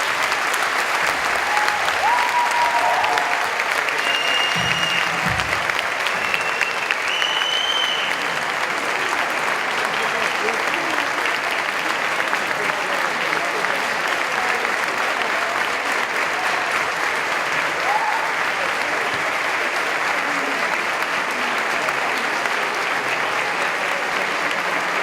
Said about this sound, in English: Applaud, please, one more time.